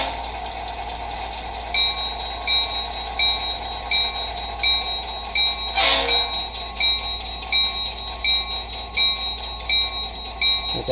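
A locomotive sound decoder for HO scale model trains plays through iPhone speakers, giving a steady engine rumble with a rhythmic horn-like tone repeating about every second and a brief louder burst near the middle.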